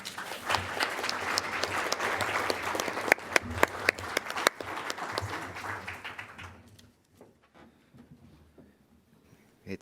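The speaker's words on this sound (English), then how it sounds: "please join me in a round of applause for our full panel" An audience applauds a panel at a meeting on living with MPN, with dense steady clapping for about six seconds, then a few scattered claps fading into quiet room tone.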